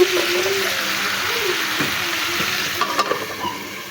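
Pumpkin and mixed vegetables sauté in a pan with a steady, moderate sizzle, followed by a few light clinks and knocks near the end.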